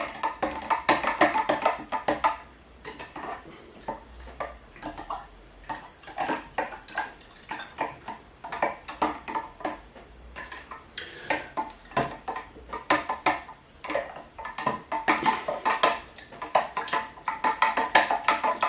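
Lavender mead ingredients stirred in a pot make repeated clinking and sloshing knocks in a steady rhythm, close and moderately loud, with no talking.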